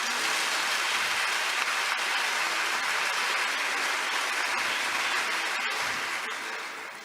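A crowd at a religious teaching gathering applauds steadily and loudly for several seconds, a dense even wash of clapping that thins slightly at the end.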